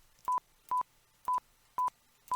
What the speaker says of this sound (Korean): 이 전자레인지에 요리가 끝나고 알림음으로 삐 소리가 연속으로 5번 나오게 프로그램을 하고 싶다면은